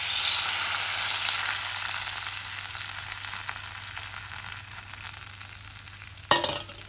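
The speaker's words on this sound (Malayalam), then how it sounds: "അപ്പോൾ നമുക്ക് അതിലേക്ക് നമ്മൾ ഈ സോസ് ഒഴിച്ച് കൊടുക്കാം" Ginger, garlic and chilli fry in hot oil for Gobi Manchurian, a loud steady sizzle that slowly softens, then a sudden splashing burst near the end as sauce hits the pan.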